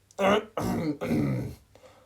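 A few harsh throat-clearing coughs in quick succession, close by, three main bursts with short gaps and a faint fourth at the end.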